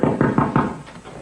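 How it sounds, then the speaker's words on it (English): A door is hammered on with four heavy, evenly spaced thuds close by, then a fainter fifth knock as the pounding trails off. "Eden, I can't work with you hammering on the door like that."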